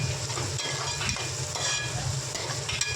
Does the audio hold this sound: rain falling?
no